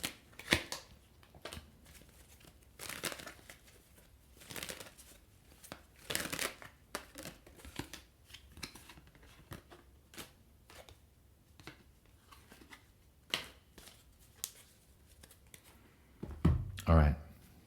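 Tarot cards are shuffled repeatedly in a riffling, papery rhythm, with bursts of card noise scattered through a quiet room and a louder handling clatter near the end.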